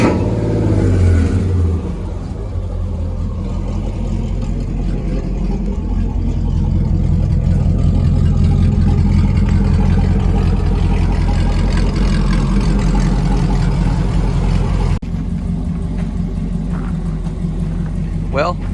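A truck engine with a newly installed Max Effort transmission rumbles close by, revving up and settling back to a deep idle, with a voice talking over it throughout.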